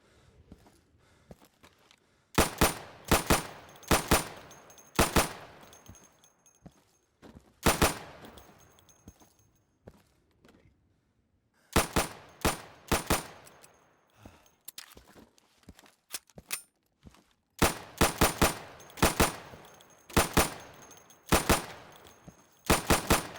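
Sidearm gunfire at pop-up targets in the game Insurgency: loud, sharp pistol shots fired in quick bursts of several rounds, separated by quiet pauses, with no talking.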